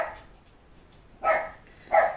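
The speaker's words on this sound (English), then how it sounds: "that's my barking mutt, as you can hear her bark" A female dog barks indoors, two loud close barks spaced under a second apart, following a fainter bark at the start against a quiet room.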